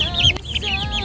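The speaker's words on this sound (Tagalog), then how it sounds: "ang aking mga manok" Chickens clucking close by, several birds making quick repeated calls in an uneven rhythm, with no talking.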